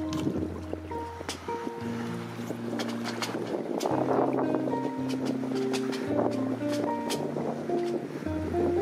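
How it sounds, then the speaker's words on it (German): A strong river current rushes and churns steadily around a kayak, a dense wash of water noise that persists throughout. Low tonal hums and a few clicks and knocks mix in. "Und jetzt kommt von links eine ziemlich heftige Strömung rein."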